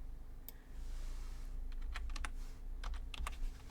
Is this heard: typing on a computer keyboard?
yes